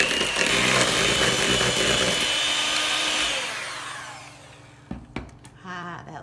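An electric mixer beats cookie dough for s'mores cookie cups with a loud, close motor whir that fades out over a few seconds, followed by a couple of brief knocks and clatters.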